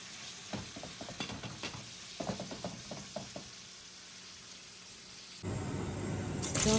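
Chicken pieces frying in hot oil with a steady sizzle, punctuated by a run of clattering stirs early on, then a louder, rougher hiss toward the end.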